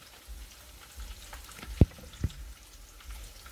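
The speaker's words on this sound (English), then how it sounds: "because the oil will pop" Ground beef lumpia frying in hot oil, a soft steady sizzle with scattered crackles and two sharp, close pops standing out, no talking.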